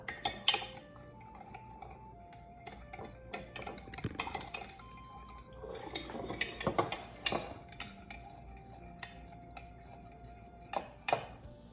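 Salt being stirred into vinegar for jalapeño pickle, heard as scattered clinks and taps of a spoon against a container, irregular and close, with quiet pauses between bursts.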